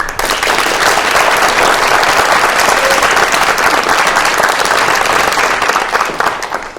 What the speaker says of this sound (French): Le public l'applaudit.